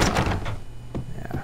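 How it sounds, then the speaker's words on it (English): Rattling thuds of a locked door being tried in the Max Payne video game, several short knocking bursts in quick succession, fairly close and alone without talk. "Yeah, still can't open that door."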